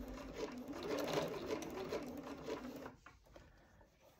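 A sewing machine stitches piping tape with a quiet, rapid whirring hum that runs steadily for about three seconds before stopping, leaving soft handling sounds.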